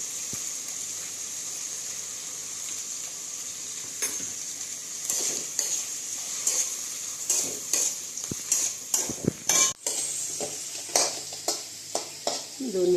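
Potatoes sautéing in ghee in a pan, a steady soft sizzle with repeated scraping and stirring clicks of a spatula growing busier toward the end.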